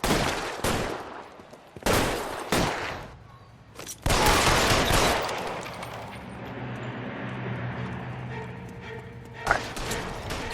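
Gunfire in the video game L.A. Noire comes in sharp, loud bursts of rapid shots separated by pauses, followed by a lower rumbling stretch with a single crack near the end.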